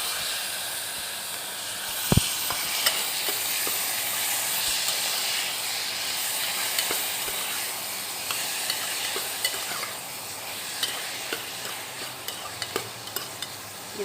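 Tomatoes sautéing in a pan for lentil curry, a continuous hissing sizzle with one sharp knock early on and scattered light spatula taps throughout, close and steady with no talking.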